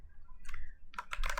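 Short bursts of keystrokes on a computer keyboard as code is typed, a few isolated clicks followed by a quicker cluster, close and fairly quiet.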